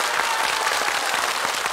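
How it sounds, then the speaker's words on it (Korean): Studio audience on a Korean TV game show applauding, a dense steady roar of clapping throughout the short burst. "박수."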